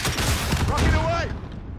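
A rocket launches and explodes in Call of Duty: Modern Warfare multiplayer amid heavy gunfire: a burst of loud overlapping blasts and rumble that fades out at the end, with a brief voice line over it.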